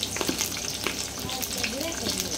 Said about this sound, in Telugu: ఆనియన్ ఎర్రగా అయింది కదా, ఇప్పుడు ఇందులో కరివేపాకు యాడ్ చేసుకుందాం.